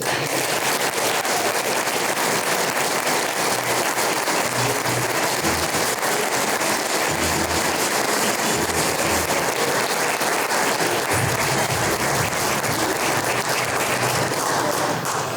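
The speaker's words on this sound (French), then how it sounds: "Mesdames et messieurs, veuillez applaudir bien fort" A large audience applauds an award laureate at a French-language ceremony, a dense, loud, sustained wash of clapping that holds steady throughout with no pauses and no talking.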